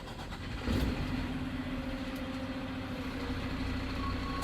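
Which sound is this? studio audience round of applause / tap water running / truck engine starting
truck engine starting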